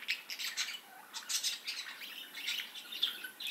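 Budgies in an aviary, played back from a recording, chirp and squawk in quick overlapping bursts, a busy, fairly faint chatter of several birds with no talk.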